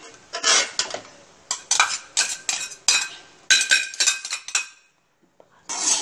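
Metal utensil scraping and clinking against a pan while fried egg is stirred into fried rice, a steady series of short, bright strokes with brief pauses, close and clear with no talk.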